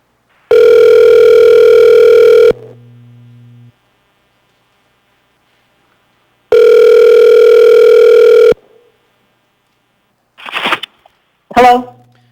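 Two long, loud steady telephone tones, each about two seconds, on a public hearing call line, each followed by a fainter lower hum. They are separated by silence and followed by brief clicks and rustles.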